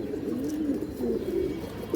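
Pigeons coo in low, rolling, continuous murmurs, with a male bird among the birds offered for sale. The cooing is fairly near and steady, with no talking over it.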